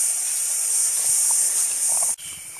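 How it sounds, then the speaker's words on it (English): An air compressor in a compressor room gives off a loud, steady high hiss that cuts out abruptly near the end, leaving quieter background noise. "In here, compressor room."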